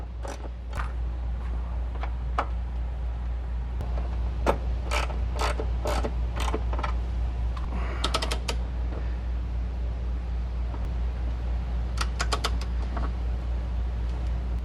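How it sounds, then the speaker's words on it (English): A ratcheting 13mm socket snugs M8 bolts while running boards go onto a 2014-2018 Chevrolet Silverado or GMC Sierra. Clustered rapid mechanical clicks come in bursts over a steady low hum. "Once you have the M8 bolts started by hand, snug them up with a 13mm socket."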